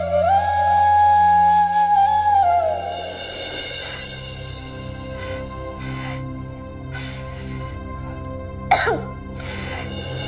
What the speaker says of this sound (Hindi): आदत नहीं है इसलिए खांसी आ रही है।